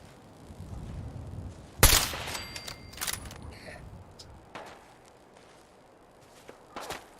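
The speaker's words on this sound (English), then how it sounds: "I hear you throwing bullets at me" Enemy gunfire in Fallout 4 rings out as a loud sharp crack followed by a few scattered fainter shots and impacts over low game ambience.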